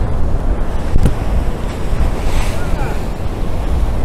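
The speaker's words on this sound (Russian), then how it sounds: "это маленькие волны" Rough waves of a storm on the Crimean coast crash and churn loudly nearby, with gusting wind battering the microphone throughout.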